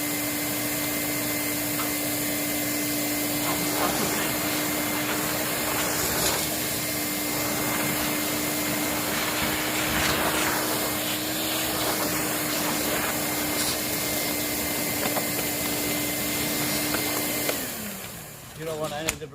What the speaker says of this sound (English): I'm gonna vacuum.